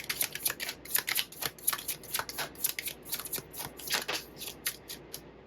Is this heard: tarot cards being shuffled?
yes